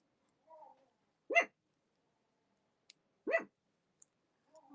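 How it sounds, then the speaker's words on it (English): A dog indoors barking at an Amazon delivery man, two sharp single barks about two seconds apart, moderately close, with faint clicks and brief low murmurs between them. "my dog is mad at the Amazon guy, I think"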